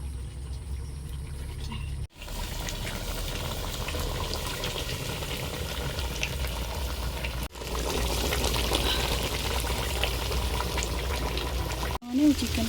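Water gushes into a pot of chicken for a curry, making a steady rushing, bubbling wash that continues through a few abrupt cuts, with a voice faintly audible underneath.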